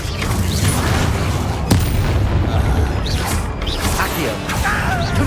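Bombardo spell explosions in the Hogwarts Legacy video game, a continuous barrage of loud booms, crashes and whooshes from magical combat, with a few faint snippets of voice underneath.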